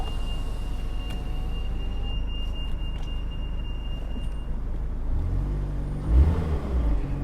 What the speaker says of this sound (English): I'd say we've got a slight blow on the exhaust as well. Quite raspy.